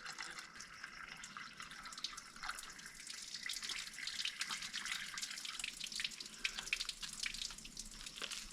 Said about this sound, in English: water's coming out of the water pumps now, out of the water pump outlet